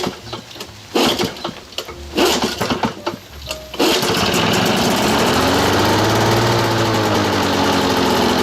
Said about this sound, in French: je vais vous démarrer ça. Puis je vais tondre